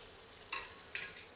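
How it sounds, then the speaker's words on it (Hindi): Chicken frying with onions in a pan over medium heat: a low, steady sizzle marked by two sharp scraping stirs about half a second apart, close and fairly quiet. "इसे प्याज के साथ मिलाकर मध्यम आंच पर 1 से 2 मिनट भूनते हैं। अब इसमें चिकन डालते हैं।"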